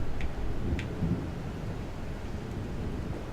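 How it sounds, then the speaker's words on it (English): Steady rain and a low rolling rumble of thunder in The Evil Within DLC The Assignment, with a couple of faint high drips early on and no voices. "And it's raining"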